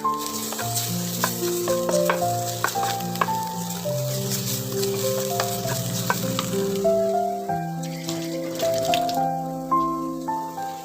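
Garlic paste sizzles steadily in a hot pan of browned frying onions while a spoon stirs and scrapes, with clinks of utensils and a tonal hum underneath.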